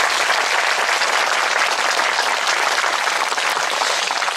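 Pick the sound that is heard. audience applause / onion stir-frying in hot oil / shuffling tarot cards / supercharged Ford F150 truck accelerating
audience applause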